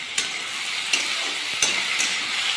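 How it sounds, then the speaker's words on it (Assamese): Boiled banana flower and potatoes sizzle steadily in hot oil in a pan, a close continuous fry with a few sharp stirring clicks. "বইল কৰি থোৱা কলডিল আৰু আলুখিনি বহাই দিলোঁ। এইখিনি ভালদৰে আমি ভাজি ল'ম"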